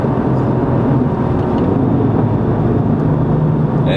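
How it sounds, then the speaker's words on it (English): A turbocharged Subaru Crosstrek with a Cobb SF intake and bypass valve drones steadily while driving, a loud, continuous low rumble of engine and road noise heard from inside the cabin, with no distinct turbo whistle standing out. "I just want you guys to be able to hear, like some turbo spool, the Cobb SF, and possibly the LF bypass valve"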